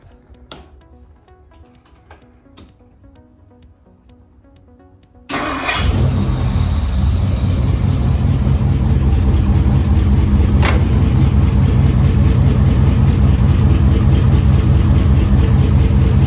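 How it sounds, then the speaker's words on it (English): A Ford Y-block V8, just rebuilt with a new rocker arm shaft, is cranked and catches after a few seconds of quiet. It settles into a loud, steady idle that runs on without a break, and no one speaks over it. "let's go ahead and start the engine."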